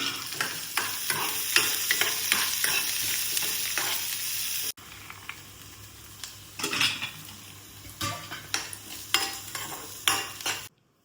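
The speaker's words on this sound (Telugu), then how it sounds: "ఏం ఫ్రై చేస్తున్నావు? ఆనియన్స్ ఇంకా కాజు." Onions and cashews frying in a pan as a garnish for chicken pulao, a close sizzle with frequent metal spatula scrapes and clinks against the pan, a short break midway, then more stirring, no talking.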